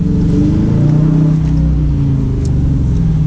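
A 2017 Dodge Challenger R/T with a 5.7-liter V8 idles and revs close by, giving a loud, steady, deep rumble that holds throughout with slight surges.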